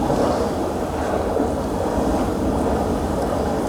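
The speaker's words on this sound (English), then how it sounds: "On the bank, the waves are lapping against the mud, and we can hear the water interacting" Waves lap against a muddy bank on the Barrier Islands shore of the Virginia Eastern Shore, a steady, dense wash of water with no distinct breaks, close and moderately loud throughout.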